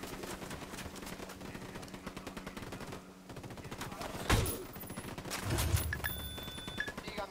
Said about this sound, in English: my shooting is way off